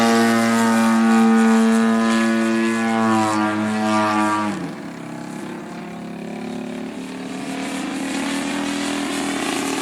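Hostetler 33% Super Chipmunk RC airplane flying overhead, its propeller engine a loud steady drone that sags in pitch as it passes, then continues as a lower hum.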